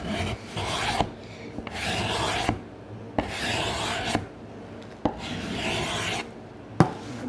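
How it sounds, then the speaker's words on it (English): Hand scraping of dried glue off a wooden surface, the workpiece held in one hand: rough rasping strokes in bursts of about a second each, close and fairly loud, with brief clicks between strokes and no talk. "I'm holding it with one hand and scraping with the other"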